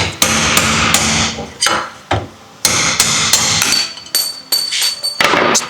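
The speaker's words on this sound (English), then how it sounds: "then we're going to flip the hub over and punch out the small one." Sharp metallic hammer blows drive a punch against a small bearing race in a boat trailer wheel hub, close and loud, in irregular bursts of several strikes separated by short pauses.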